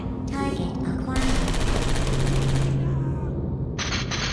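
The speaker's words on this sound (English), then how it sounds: "Seems like a turret shooting range." Automated turret gunfire echoes through a test chamber shooting range in the video game Portal 2, with sustained rapid bursts of shots, some with metallic whirring, filling most of the few seconds at steady loudness.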